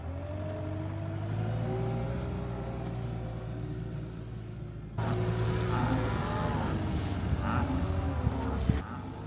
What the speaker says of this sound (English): They will moo and moo and moo until they get what they want